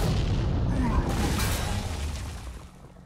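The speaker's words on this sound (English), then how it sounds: "So let's Flame Strike." Flame Strike spell going off in Hearthstone, a loud whooshing boom with a roaring, crackling burst that slowly fades, with a voice talking over it.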